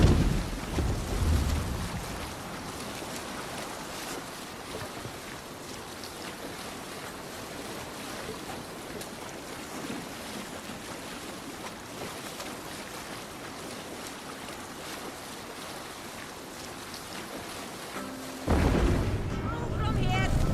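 Viking longship under sail in the game Assassin's Creed Valhalla, with steady wind and rolling ocean wash sustained throughout, a louder gust near the start and a swell near the end.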